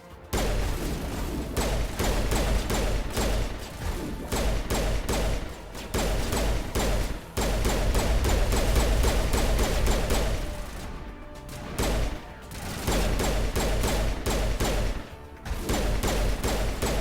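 Pistol gunfire in the video game Mass Effect: dense, near-continuous volleys of sharp shots with brief gaps, loud and busy throughout, mixed with combat music and effects, no talking.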